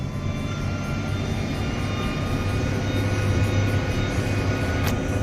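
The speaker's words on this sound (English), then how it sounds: "The tractor's working pretty good." A T6.175 tractor engine drones on continuously at moderate distance while working a field, low and even, with no speech over it.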